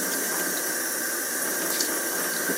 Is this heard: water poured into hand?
yes